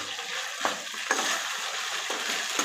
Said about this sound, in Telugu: కలదిప్పాలి దాన్ని.